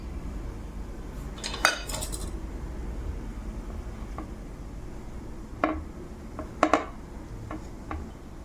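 A knife taps and clinks against a plate while cutting through soft, spongy khaman dhokla, with a few sharp scattered clicks over about eight seconds against a quiet kitchen background.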